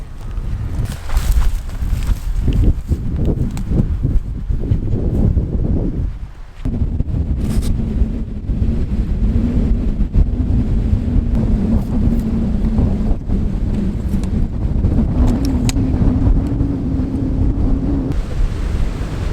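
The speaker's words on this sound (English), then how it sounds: "As you can see, it's really windy again" Strong coastal wind buffets the microphone in loud, continuous rumbling gusts, with a droning engine hum running underneath for much of the time.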